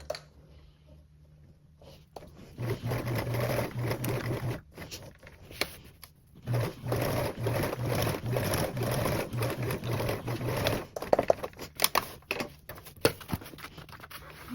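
Sewing machine stitching a quilted tote bag, running in two bursts of steady mechanical whirring separated by a short pause, then a few light clicks and thread handling noises near the end.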